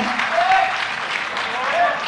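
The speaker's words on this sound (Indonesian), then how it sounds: "tepuk tangan" Audience applause at a public talk: a dense, steady wash of clapping that lasts about two seconds, with faint voice-like tones mixed underneath.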